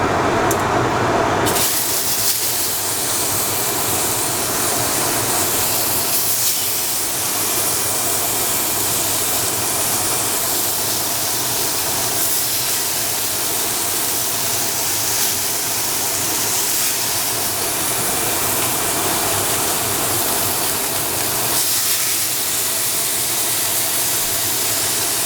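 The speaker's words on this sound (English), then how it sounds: "And into the pan they go." NY strip steaks dropped into screaming-hot butter in a cast iron pan, a sudden loud hissing sear that continues as a dense, steady sizzle throughout.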